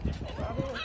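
Geese or ducks honking at a park lake while being fed, several loud nasal calls overlapping close by, with people's voices mixed in.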